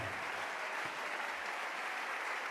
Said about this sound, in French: Nous acclamons le Seigneur très très fort.